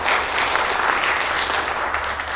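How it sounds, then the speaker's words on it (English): A theater audience at a Fine Arts Association stage production breaks into loud, dense applause, a steady crackling wash of many hands that continues evenly throughout. "If we could give them a round of applause."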